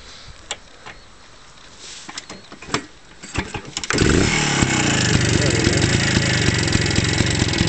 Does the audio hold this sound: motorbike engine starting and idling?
yes